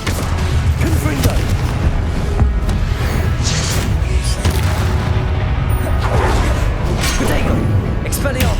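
Confringo fire spell blasts in Hogwarts Legacy on PS5, with repeated booming explosions and rumbling impacts throughout a busy battle, mixed with other combat effects and a voice calling out spells.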